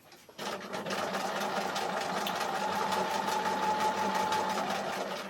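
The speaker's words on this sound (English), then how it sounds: "So I will just machine round the leaf." A sewing machine stitches steadily around a leaf appliqué on a quilt, giving a continuous close mechanical whir and hum that runs almost unbroken after a brief start.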